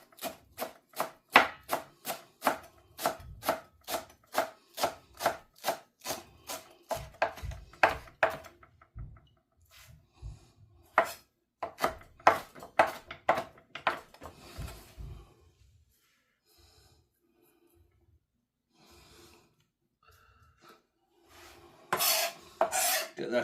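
A knife chops a rolled-up ball of cilantro on a cutting board in quick, steady rhythmic strokes, pauses, then resumes another fast run of cuts before trailing into quiet handling sounds and a final brief burst of scraping.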